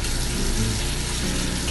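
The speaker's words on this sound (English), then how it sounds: "So, turn the water on. Then you want to fill the bowl up and rinse the rice out." Tap water runs steadily into a bowl to rinse rice for onigiri, a continuous, fairly loud rushing splash throughout with no voices.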